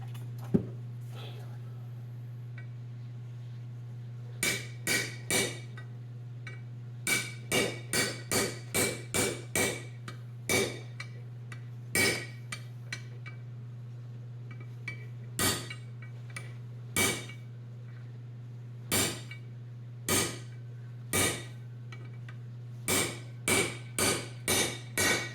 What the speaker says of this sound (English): I'll get my bigger hammer.